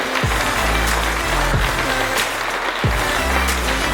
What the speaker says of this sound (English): Let's just give a round of applause to everyone that sponsored the match